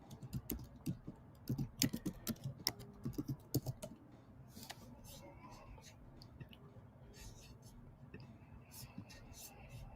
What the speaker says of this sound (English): I'm just typing something.